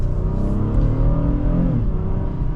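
A 2026 Subaru Outback or 2026 Honda Passport engine revs up inside the cabin, a steady, close, low droning hum that swells slightly as it climbs, with no talking over it.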